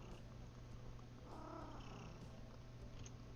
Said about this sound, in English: You're a cool kitty.